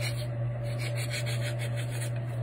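A craft knife shaves the edge of a handmade Christmas candy dish piece, producing quick rhythmic scraping strokes over a constant low electrical hum, close up.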